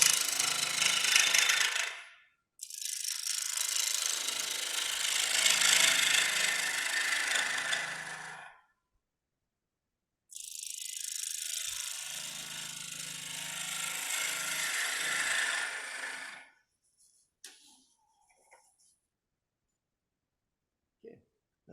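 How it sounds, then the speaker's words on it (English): A bow gouge cuts hard, sappy, nearly petrified wood spinning on a lathe, with loud sustained scraping and shearing in three long bursts broken by silent pauses, then faint clicks at the end. "Slowly going through my bow gouges here because this is really kind of petrified"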